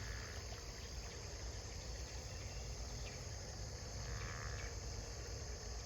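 Steady chorus of frogs or insects trilling at night, a dense continuous drone with a few louder calls standing out, no voices.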